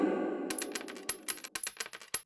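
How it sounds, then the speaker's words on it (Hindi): Cartoon sound effect of gold coins being measured out into a pot: a quick run of bright metallic clinks and jingles piling up, loud and close, with no talk. "उसी बर्तन में सोने के सिक्के नापने लगे दोनों"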